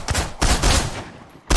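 Gunfire in the survival shooter Miscreated: a few heavy, close bursts of shots with short gaps between them, loud and sharp with no talk over them.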